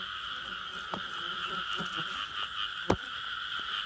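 Frogs croaking at night in a frog-hunting spot, a dense chorus of steady high trilling calls with a few sharper, louder croaks breaking through close by, no one speaking.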